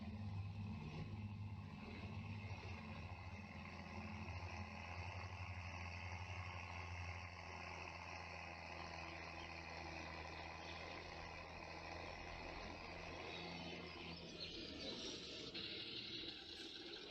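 Tractor pulling a trailer in Farming Simulator 22 on the island map, a steady low engine drone holding throughout at moderate level, with no talking.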